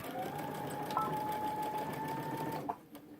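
A sewing machine runs a steady, fast stitching whir for about two and a half seconds while top stitching a backpack pocket flap, then stops with a faint clunk, heard close and fairly quiet.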